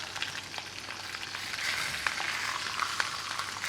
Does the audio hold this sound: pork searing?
yes